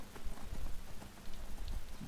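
Horse galloping in the video game Skyrim, a quick run of muffled hoofbeats thudding in an uneven rhythm over a noisy, close background.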